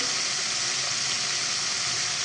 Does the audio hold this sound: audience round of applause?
no